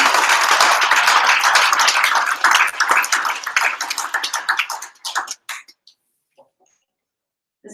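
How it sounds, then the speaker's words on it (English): Crowd applause for the CUA Angels team at a hackathon judging night, dense clapping that thins into scattered claps and dies out after about five seconds, leaving near silence. "Big round of applause for CUA Angels"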